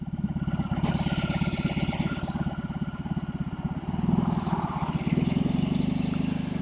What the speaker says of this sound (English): Gonna get that Boxer a little bit more off the line there to get the RPMs up.